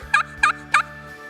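A crystal and slate friction turkey call imitates a hen turkey with three quick, evenly spaced high yelps, close and loud, with no voices over it.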